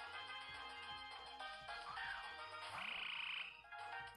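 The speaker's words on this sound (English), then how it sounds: "If you hear Papa Toad's cry, it sounds like a cell phone." A toad character's cry in a video game warbles like an electronic cell phone ringtone, a shrill trilling chirp rising out of looping game music and ending in a sustained high buzzing tone.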